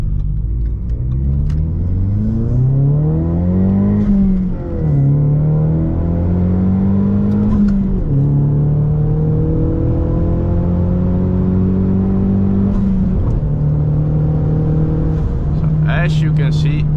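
Ford Mustang 2.3 EcoBoost pulling hard through several gears, its engine note climbing in pitch, dropping at each upshift and climbing again, heard from inside the car with a voice talking underneath.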